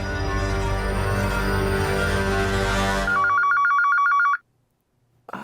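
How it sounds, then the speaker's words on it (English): Telephone at a bank rings in a movie scene, a loud sustained bell ring that shifts into a rapid electronic trill, then cuts to silence before a brief sound at the end. "There's the phone to the bank."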